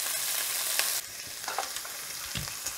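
Shrimp sear in a hot pan, a steady bright sizzle that eases after the first second, broken by a few clinks and scrapes of a utensil against the pan, with no talking.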